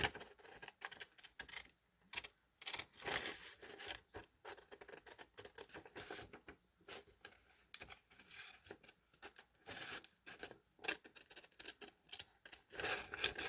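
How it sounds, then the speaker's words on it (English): Quiet, close snipping and crisp rustling as scissors cut through lined paper, in irregular bursts of small cuts with brief pauses between them. "just for the sake of the video, I'm going to cut it"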